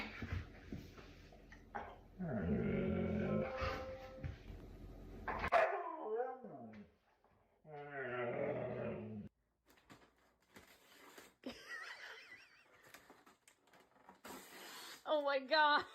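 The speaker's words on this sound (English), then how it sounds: "This dog was mad that she couldn't reach the toy." A frustrated female dog that cannot reach a toy barks, yips and growls in bursts, loud and close, with pauses between outbursts and a whimpering edge at times; people talk and exclaim over parts of it.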